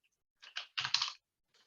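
Keys on a Scandinavian-layout computer keyboard clack in several quick bursts while spreadsheet data is being tidied, close and alone, with a short pause before one faint final tap.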